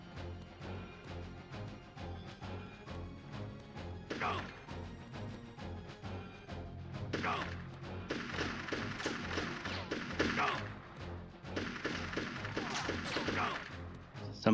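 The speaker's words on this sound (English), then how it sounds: "Somebody behind me shooting me?" Gunfire from the Army Men: Sarge's Heroes video game, a run of sharp shots and bursts that builds in intensity over time, with several heavier blasts near the end.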